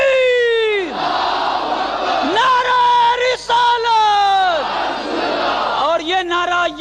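A large Muharram gathering shouts a religious slogan in unison in reply to a leader, with loud, sustained massed voices rising and falling over several calls.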